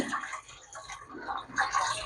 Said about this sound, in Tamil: சுடு தண்ணி விட்டுட்டு